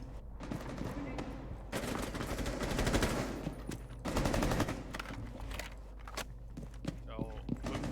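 Rainbow Six Siege gunfire punches through walls in rapid automatic bursts, loud and dense, with brief pauses between volleys and some footsteps and rattling in between.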